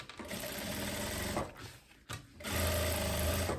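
A sewing machine topstitches a faux leather midi skirt, its motor whirring in a fast continuous run, pausing briefly in the middle, then resuming at full speed, close and without talk.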